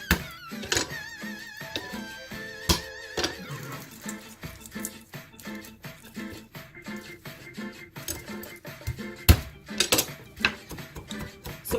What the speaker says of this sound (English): I'm chopping up this garlic really, really finely